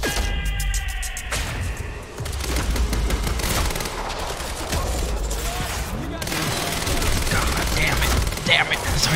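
SMG gunfire in the shooter Quantum Break, rapid full-auto bursts crackling almost continuously, with short pauses between volleys and loud sharp reports throughout.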